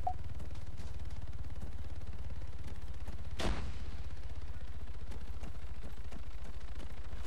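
Rapid gunfire in the video game Arma 3 rattles continuously at a distance, with one louder, sharper shot standing out midway; no voices.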